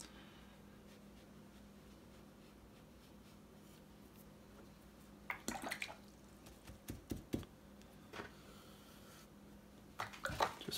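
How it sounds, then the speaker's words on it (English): A paintbrush rinsed in a water container at a painting table, soft faint swishing and clinking taps in short irregular bursts, quiet and close, without talk. "Just rinse my brush out real well here so it's clear water."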